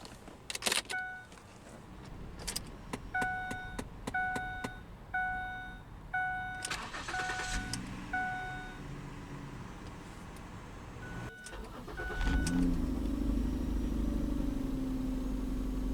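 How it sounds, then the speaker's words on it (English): A 2008 Ford Taurus X Eddie Bauer FWD crossover starting up: repeated chime beeps and clicks from the cabin, then the starter cranks and the engine catches into a steady, close idle. "let's go ahead and start the engine"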